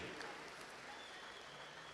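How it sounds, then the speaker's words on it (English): A crowd at the Canadian Swimming Trials finals applauds swimmer Summer McIntosh, a steady, even wash of clapping and cheering heard at a distance through the brief moment. "how about one more round of applause here?"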